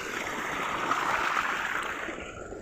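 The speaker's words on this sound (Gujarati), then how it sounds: "પાણી ફૂલ આવે છે, જોઈ શકો છો તમે." Irrigation water runs steadily into a farm field in a Gujarati village, a continuous close rushing and gurgling flow with no talk over it.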